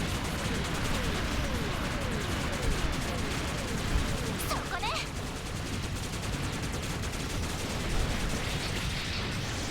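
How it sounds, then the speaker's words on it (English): Turrets in a video game fire in a dense, continuous barrage of gunfire and blasts that stays loud for the whole stretch, with a brief sharp burst near the middle and no talking over it. "Oh yeah, we've got turrets here."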